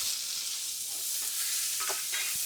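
Onion and garlic fry in oil with dried red chillies, a dense close hiss with soft stirring scrapes and a few faint clinks, no voices.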